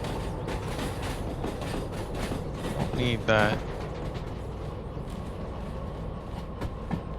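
Train cars rolling in Derail Valley, with a DE6 and DH4 locomotive combo, a steady rumbling and clattering drone throughout with a brief louder clank partway, and a short spoken remark over it.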